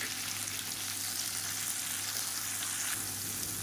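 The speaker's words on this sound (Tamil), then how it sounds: "இப்போ பாருங்கள், தக்காளி வெங்காயம் எல்லாமே நல்லா வதங்கிடுச்சு" Tomatoes and onions for a chili chutney sauté in a pan, giving a steady, close, continuous sizzle and hiss with faint stirring, no voices over it.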